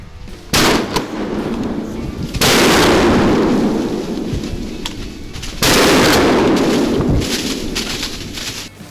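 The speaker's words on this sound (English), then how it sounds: "sure enough, Holland gets a shot at one" A rifle fires at deer during a hunt in Virginia, caught on a Tacticam: three loud, close blasts a few seconds apart, each followed by a long rolling echo.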